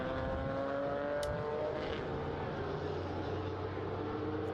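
Race cars lapping in a qualifying session at the Estoril Classics historic meeting, a continuous loud engine drone with shifting pitch as cars pass and accelerate, heard at a distance without breaks.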